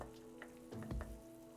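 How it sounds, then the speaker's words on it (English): A pot of pork belly kimchi jjigae sizzles faintly at a restaurant, with a soft crackle and a brief clatter partway through, quiet and without talk. "it is sizzling"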